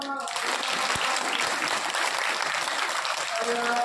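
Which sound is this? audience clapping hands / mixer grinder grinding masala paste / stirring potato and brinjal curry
audience clapping hands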